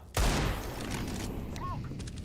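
Gunfire in a tactical shooter game such as CS:GO or Valorant, one sharp loud burst followed by sustained rattling fire and a faint electronic chirp, with no voices.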